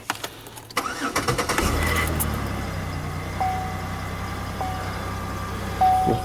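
A ninth-generation Chevrolet Impala engine cranks and catches, then settles into a steady idle with a thin electronic beep chiming now and then over the running engine.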